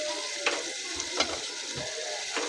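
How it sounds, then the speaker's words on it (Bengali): Spices with onion, chili, ginger-garlic paste, turmeric and salt frying in a pan for radish curry, a constant close sizzle broken by a few soft stirring scrapes. "এই যে দেখেন হচ্ছে যে মূলা তরকারি বসানোর জন্য মশলা কষাই নিলাম"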